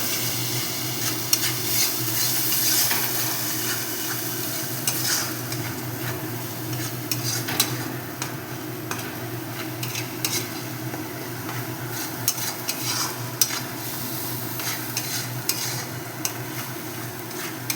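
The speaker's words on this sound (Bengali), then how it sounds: "এবার এটা ভালো করে ভেজে নিতে হবে" Thankuni leaf paste with turmeric and salt frying and being stirred in a pan, a steady close sizzle with scattered scraping clicks of a utensil running throughout, no voices.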